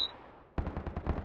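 Automatic gunfire in the video game Lost Light starts abruptly after a short lull, a rapid rhythmic burst of about eight shots, moderately loud and close.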